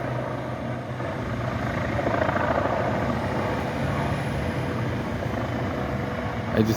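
A helicopter hovers overhead above a street during a protest, its steady throbbing rotor drone continuous and fairly loud for the whole stretch, with faint voices underneath.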